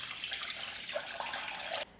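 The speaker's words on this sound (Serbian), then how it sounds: "Napunit ću šerpu sa vrućom vodom do visine poklopca" Hot water pours steadily into a cooking pot holding a cloth and jars, a close, continuous splashing rush that cuts off abruptly near the end.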